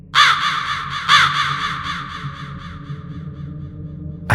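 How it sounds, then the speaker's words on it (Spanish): Crow cawing from a nearby branch, two loud, harsh caws about a second apart followed by a trailing series of fading calls, close and clear with no other sounds. "un cuervo graznó desde una rama cercana"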